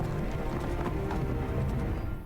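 Horse hooves clip-clop steadily in an animated Castlevania series, a continuous rhythmic trot over a dense, full soundtrack with no voices.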